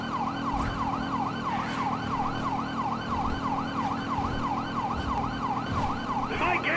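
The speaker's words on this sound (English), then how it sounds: "can hear the sirens." Police sirens wail in a steady, rising-and-falling cycle during a car chase in the video game Grand Theft Auto 5, continuous and fairly loud over a low engine rumble.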